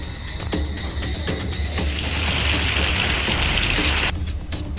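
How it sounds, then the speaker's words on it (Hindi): Heavy, continuous rain pours down in Jhansi, a steady dense hiss filling the whole stretch, with a few sharp tapping drops near the start and no voices. "झांसी में लगातार भारी बारिश हो रही है।"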